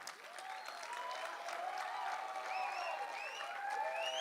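Steady audience applause from a large crowd at a talk event, dense clapping continuing evenly throughout with some faint whistle-like tones over it.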